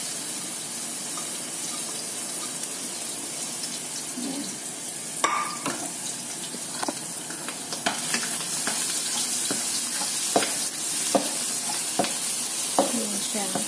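Garlic frying in hot cooking oil, a steady bright sizzle with clinks and stirring scrapes scattered through it, growing a little fuller toward the end; no one speaks.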